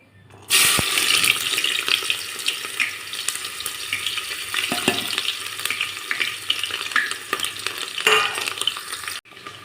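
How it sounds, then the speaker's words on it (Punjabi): Onions hit hot mustard oil for a vegetable tempering, a loud, steady sizzle starting abruptly and running throughout with scattered crackles and utensil scrapes, cutting off near the end. "ਜਿਹੜਾ ਆਪਾਂ ਸਰੋਂ ਦਾ ਤੇਲ ਪਾਇਆ ਸੀ ਉਹ ਆਪਾਂ ਕਲਕਾ ਲਿਆ ਵਾ ਤੇ ਹੁਣ ਆਪਾਂ ਵਿੱਚ ਪਾਵਾਂਗੇ ਗੰਡੇ"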